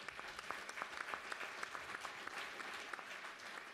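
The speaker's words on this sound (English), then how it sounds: "big round of applause" An audience at a craft brewers conference gives a brief round of applause, a steady wash of clapping with a few distinct claps standing out, fairly faint and with no talk over it.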